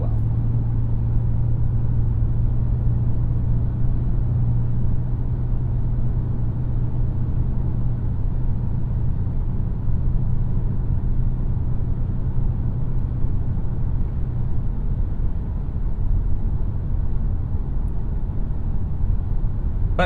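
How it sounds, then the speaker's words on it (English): A 2021 Hyundai Sonata N-Line cruises down a Kentucky highway, heard from inside the cabin as a steady low engine and road rumble with a constant tyre hum, unbroken and without talking. "right now we're just kind of cruising down the highway here before we get to a country road"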